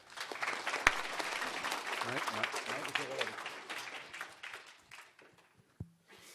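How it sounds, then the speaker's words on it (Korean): Audience applause at an education forum after a professor's lecture, a thick burst of clapping that gradually thins out into scattered claps and a few thumps near the end. "다시 한번 큰 감사의 박수 부탁드리겠습니다"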